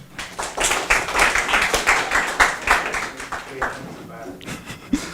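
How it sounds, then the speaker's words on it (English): A classroom audience in a university English course claps for a teacher, a burst of quick, uneven handclaps that swells and then thins out, with voices talking over it. "Let's give our Mr. Pat a big applause."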